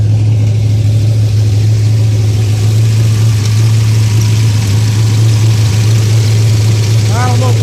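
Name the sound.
1981 Oldsmobile Cutlass engine running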